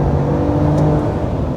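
A 2026 RAM 1500 RHO pickup truck accelerating, its engine building into a steady, loud, continuous roar from inside the cabin with no talking.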